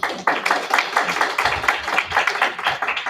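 An audience at an information session applauding a youth-against-drugs plaque presentation, dense steady clapping from many hands sustained throughout, fairly loud and close.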